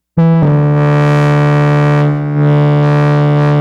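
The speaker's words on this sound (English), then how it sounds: "hard clip model" A loud, buzzy synthesizer note through a hard clip distortion model on a Korg NTS-1 mkII starts abruptly and holds steady with a harsh, clipped edge, dipping briefly before continuing.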